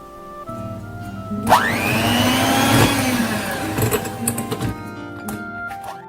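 An electric mixer whirs loudly through cocoa cake batter with vanilla extract, its motor pitch rising as it spins up and then holding a steady drone for several seconds before easing off, with no talking.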